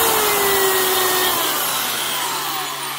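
A 2010s Black & Decker 1/2-inch corded drill runs with a loud, steady motor whir and rushing airflow, close up, its pitch sagging slightly as it spins down.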